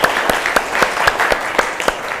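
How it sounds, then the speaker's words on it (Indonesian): A class of twelfth-grade biology students claps together, a steady wash of hand claps with regular sharper beats, as if clapping in rhythm, filling the classroom. "tepuk tangan sekali lagi untuk kita semua"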